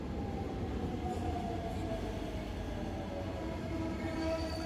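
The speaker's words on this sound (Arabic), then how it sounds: "طبعا ده القطار داخل علينا اهو." A Cairo Metro Line 2 train pulls into Al Shohadaa station toward Shubra El Kheima, with a steady, close rumble and a rising, whining squeal from the wheels and motors. No one speaks.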